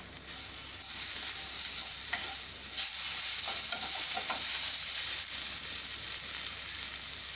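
Mint and coriander sizzling in hot oil for potato biryani, a steady bright frying hiss with a few soft stirring scrapes, close and alone without any talk.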